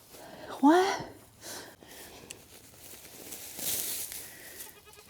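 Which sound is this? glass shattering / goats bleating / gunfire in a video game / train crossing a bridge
goats bleating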